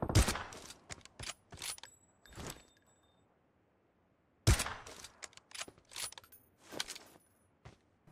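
AWM sniper rifle fire in a PUBG-style battle game, two loud sharp cracks several seconds apart, each followed by quick metallic bolt and handling clicks and scattered distant pops.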